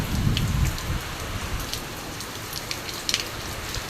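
Heavy rain pours down, driven by strong gusting wind, a dense continuous roar with scattered sharper drop hits and a low rumbling surge at the start; no voices.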